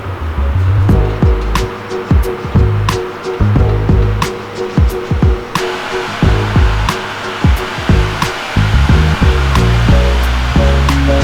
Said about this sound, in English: toss it onto the conveyor dryer and let it do its thing